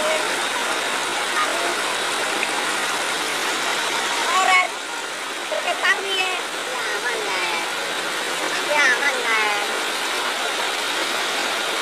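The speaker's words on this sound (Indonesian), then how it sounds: "Hujannya terus berlanjut," Heavy, unbroken rain hisses steadily across the whole stretch during a flash flood, a dense wash of noise with faint voices and clatter surfacing briefly midway.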